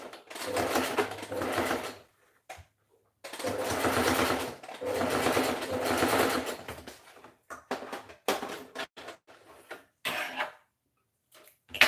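A sewing machine stitches the shoulder and side seams of a garment in several long, steady bursts separated by short pauses, ending in brief stop-start runs and clicks; it is close and clear, with no talking.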